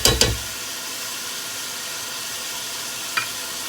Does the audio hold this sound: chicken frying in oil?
yes